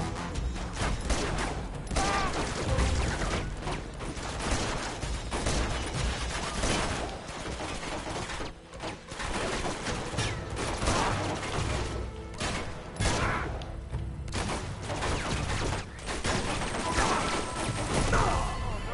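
Rapid gunfire from a magnum pistol and other weapons in the video game Uncharted 2: Among Thieves, dense and loud throughout with overlapping crashes and impacts, continuous with no clear pauses.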